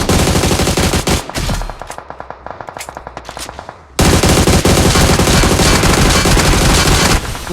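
Rapid automatic gunfire in PUBG Mobile, loud and close: dense bursts of shots, a sparser volley of single cracks in the middle, then another sustained burst of firing.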